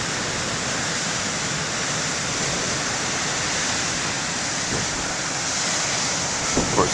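Ocean waves wash onto the main lighthouse beach at BTL, a steady broad roar of surf without distinct breaks, with light wind and a few faint clicks near the end.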